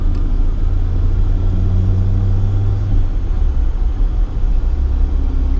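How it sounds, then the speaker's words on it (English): A 1987 BMW E30 M3 engine drones steadily while driving, a loud low rumble with a sustained tonal hum that eases slightly partway through, continuous and alone with no talking. "This one's fairly quiet in the motor."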